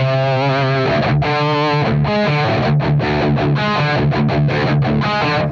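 Heavily distorted electric guitar plays chugging chords and palm-muted riffs through a St. James 6L6 amp simulator on a dirty channel, gain turned up, loud and continuous with crunchy amp-style gain.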